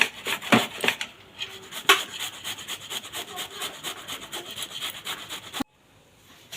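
Green mango being grated on a kitchen grater, a close rhythmic rasping of repeated scraping strokes, louder at first, that stop abruptly near the end, leaving quiet.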